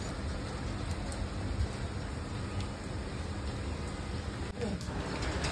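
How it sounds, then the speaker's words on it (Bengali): Heavy rain pours steadily outdoors in Bangladesh as people stand getting soaked, a dense broadband wash with a faint low rumble and no clear voices. "এখন আবার বৃষ্টির ফোর্স একটু বেড়ে গেল"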